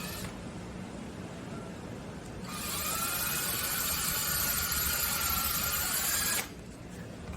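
A power drill whines steadily at close range for several seconds, drilling holes in wood, its motor pitch holding high before cutting off, with quieter handling noise before and after.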